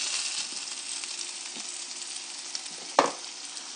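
Potatoes fry in a hot pan with a steady close-up sizzle, broken by a few scrapes and a sharp clack as they are stirred and mixed, with no talking.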